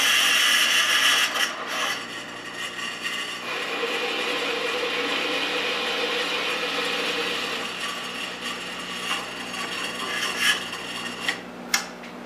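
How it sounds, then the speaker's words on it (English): Hole saw cutting a hole in metal for a 1976 Mazda RX front suspension and rack and pinion conversion, giving a continuous grinding, rasping drone with a few sharp clanks near the end. "drilling what is essentially a precision hole with a hole saw is a kind of stupid idea"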